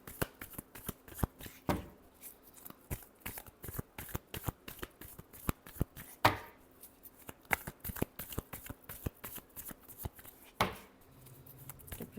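Tarot cards being shuffled by hand, a long run of crisp riffling and slapping card sounds with a few sharper riffle bursts, close and fairly quiet, without talk.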